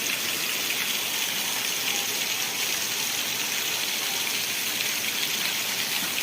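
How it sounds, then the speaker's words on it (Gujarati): Very heavy monsoon rain pouring down in the early morning in Vejalka village, Ranpur taluka, Botad district, a dense, steady roar of downpour and runoff that stays loud and constant throughout with no voices. "તમે જોઈ શકો છો મસ્ત અતિ ભારે વરસાદ પડી રહ્યો છે સવારમાં"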